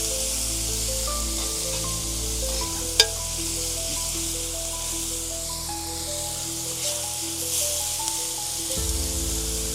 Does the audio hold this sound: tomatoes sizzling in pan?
yes